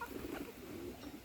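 A white Rajshahi Giribaz pigeon gives a single soft, low coo, close by and faint.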